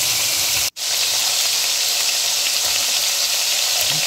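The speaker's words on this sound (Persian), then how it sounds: "بعد از اینکه پیازمون سرخ شد، سیر رو بهش اضافه کنیم و 1 دقیقه باش تفت بدیم." Onion and garlic fry in oil in a hot pan, sizzling and crackling steadily, with a brief break in the sound before the frying hiss resumes at the same level.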